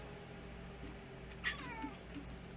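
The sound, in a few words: cat meowing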